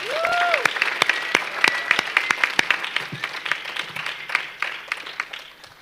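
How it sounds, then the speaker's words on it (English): Students at a junior national spelling bee break into applause that swells quickly, then thins into scattered claps as it fades, with a brief tonal sound near the start. "Now give yourselves a round of applause."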